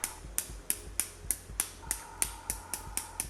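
A hard, rigid plastic stylus clicks at a steady, quick rhythm of about three sharp ticks per second on an e-ink tablet such as an ONYX BOOX or reMarkable 2. The clicks are close and crisp over a faint background hiss.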